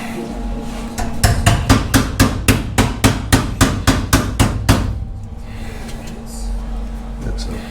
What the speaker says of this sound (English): You want to hand me the body hammer? Yeah. I got to tap it.